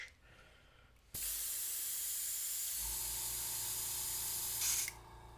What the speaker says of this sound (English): I'm going to pull up this airbrush.